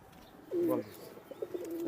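Kaldam pigeons, a breeding pair of flying pigeons kept in a cage, coo close by in a short warbling burst, with softer coos trailing after it.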